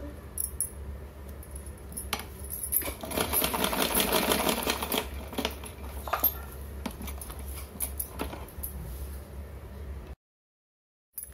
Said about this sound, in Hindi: फोल्ड करके इस तरह से पलट के इस पर सिलाई लगा देंगे।